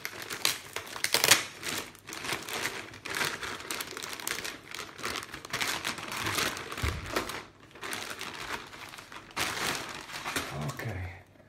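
Plastic packaging is pulled off a new programmable power supply, giving sustained crinkling and crumpling in bursts with brief pauses, close and fairly loud, with no talking.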